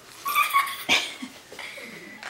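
A dog close by whimpers in high, wavering whines, lets out a sharp bark partway through, then goes back to soft whining, and no one talks.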